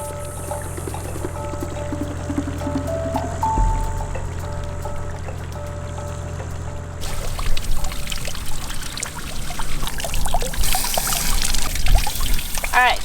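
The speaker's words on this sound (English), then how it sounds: "Alright, so this is how we're going to fill our water tank." Water from a roadside spring in Türkiye pours into a vehicle's water tank, a steady trickling splash that turns louder and more turbulent partway through, with a low engine-like hum underneath.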